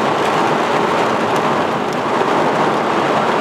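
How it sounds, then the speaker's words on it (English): Heavy rain pours steadily during a thunderstorm in Camillus, New York, a dense, continuous roar of water hitting surfaces with no voices and no distinct thunderclaps. "lights at my truck, and it's pouring."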